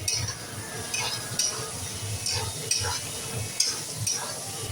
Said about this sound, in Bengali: এবার আমি ব্রকলিটা ভাজা ভাজা করে দিচ্ছি